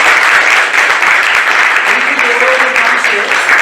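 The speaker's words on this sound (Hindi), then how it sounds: "तो आप सभी एक बार आचार्य जी के लिए भी ताली बजाएं।" Loud, sustained applause from a gathered audience at a religious gathering honouring a swami, dense overlapping clapping filling the whole stretch, with a voice faintly audible underneath.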